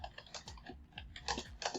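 Keys clatter on a computer keyboard as someone types a keyword into a search field, a quick irregular run of close, crisp clicks in short bursts with no talking.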